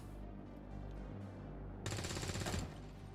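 A soldier's rifle fire in XCOM 2, a loud rapid burst of shots lasting under a second, cutting in sharply over quiet ambient background.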